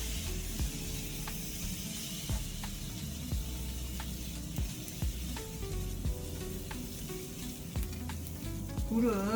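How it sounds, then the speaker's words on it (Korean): Anchovies and nuts stir-fried slowly in a pan over low heat, a steady loud sizzle with periodic scraping strokes of the spatula, no talking. "그 다음에 천천히 다시 볶아주세요."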